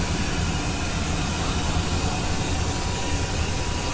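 A Philippine National Railways (PNR) train engine runs with a loud, steady roar. The broadband rumble holds constant throughout with no pauses or voices.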